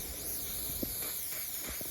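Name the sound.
silicone spray sprayed on drainage pipe joints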